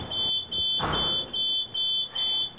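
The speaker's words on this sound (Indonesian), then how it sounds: "Kok alarm bunyi?" Office smoke alarm sounding a loud, piercing electronic tone in repeated pulses, each lasting about half a second with short gaps, close and alone with no talking.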